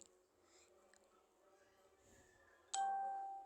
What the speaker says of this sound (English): Sounds like a notification.